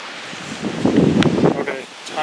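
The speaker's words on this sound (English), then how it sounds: "this wind is really shaking the tree really bad" Strong wind shakes a tree near a back step: a brief gust of rustling leaves swells and then eases, fairly close.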